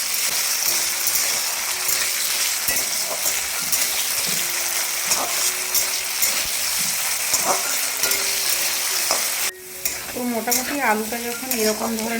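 Cut potatoes for a methi saag dish go into a pan and fry in a steady, loud sizzle with scraping stir sounds, shifting sharply partway through as the sizzle changes.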